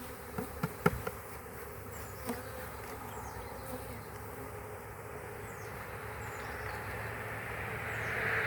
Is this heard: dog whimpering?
no